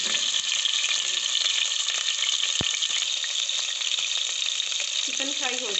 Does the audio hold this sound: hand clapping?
no